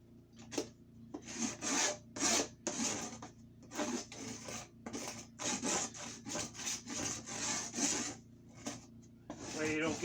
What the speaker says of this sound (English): Scraping the edges.